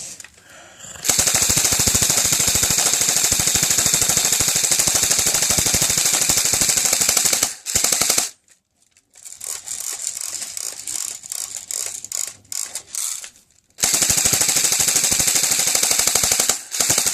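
Task Force 4 M4 airsoft rifle firing at a box in long, loud full-auto bursts, broken by a brief silence and a quieter stretch of rattling, then another sustained burst at the end.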